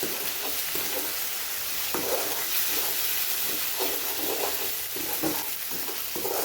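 Ginger garlic paste sautéing in hot oil for egg semiya, a steady loud sizzle and hiss with occasional stirring scrapes throughout, no voices.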